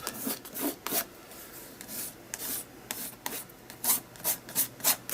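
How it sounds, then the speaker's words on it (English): Black paint is scraped across an art journal page in repeated short strokes, with rhythmic rasping scrapes, some quick and some longer, clear and close with quiet gaps between them. "put it onto my craft mat, and then I'm going to scrape"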